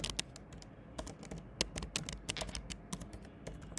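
Close, quick typing on a computer keyboard while writing code, rapid irregular key clicks heard alone at low volume.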